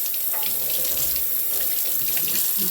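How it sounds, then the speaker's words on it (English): Hot tap water runs steadily into a sink, a continuous splashing hiss with items being rinsed under the stream. "I'm going to rinse these off with hot water."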